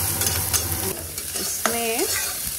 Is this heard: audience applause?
no